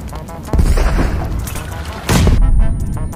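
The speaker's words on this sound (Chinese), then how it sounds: "鲨鱼现在一直被轰炸，压根没法躲" Explosions and gunfire bombardment in a battle royale video game, with two heavy booming bursts and dense crackling fire throughout, loud and close, under faint voice activity.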